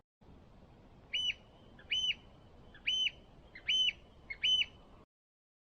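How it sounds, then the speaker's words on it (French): A small nocturnal bird sings at night under the aurora borealis: five clear, high chirping phrases at a steady, evenly spaced rhythm over a quiet background, then silence. "il y a un petit oiseau nocturne qui chante"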